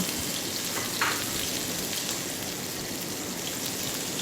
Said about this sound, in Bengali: এখানে রসুন বাটা আদা বাটা একসাথে দুই টেবিল চামচ করে আছে আমি দিয়ে দিচ্ছি এগুলো